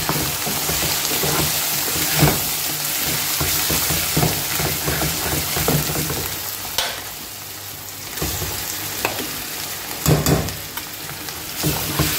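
Saag greens frying in a pan with garlic, salt, chilli and turmeric: a steady, close sizzle with intermittent scraping and clinks as the leaves are stirred, no voices.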